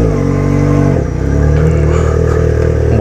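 A motorcycle engine revs hard, then drops to a steady idle rumble after about a second, loud and close with rich low harmonics.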